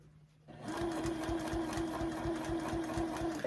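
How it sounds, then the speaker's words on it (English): Sewing machine stitching fabric for a quilted zipper pouch: after a brief quiet start, a steady rapid mechanical whirr with even needle thumps runs continuously, close up. "Then I'm gonna move it over to my sewing machine. And I'm gonna stitch and back stitch and stitch forward again."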